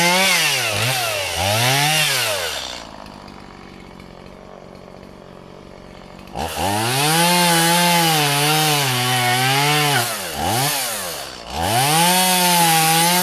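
A chainsaw idles and revs loudly close by, its engine pitch rising and falling, then cuts to near silence for a few seconds before roaring back and surging again.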